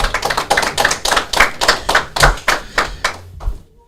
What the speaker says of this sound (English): Clap it up for Vernon, y'all